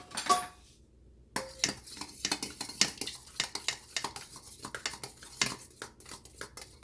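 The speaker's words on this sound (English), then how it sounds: "we're gonna stir that together" Chicken chow mein noodles with soy sauce are stirred in a pan, a close run of rapid metallic scrapes and clinks of utensil on pan after a brief quiet gap, with no talking.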